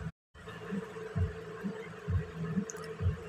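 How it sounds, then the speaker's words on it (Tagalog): A strong, fast heartbeat effect throbs in low, regular double thumps, about four beats repeating evenly, soft and muffled without any voices. "bigla ko maramdaman ang malakas at mabilis na tibok ng puso ko"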